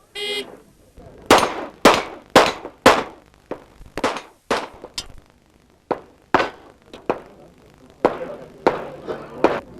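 Gunshots ringing off steel target plates at a 1989 Steel Challenge shooting match, a rapid series of about twenty sharp loud cracks in quick strings with short pauses between groups.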